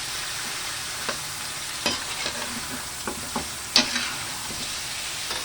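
Pork pieces sizzle quietly in a pan as a spoon stirs them with a few distinct scraping strokes, close up and without talk.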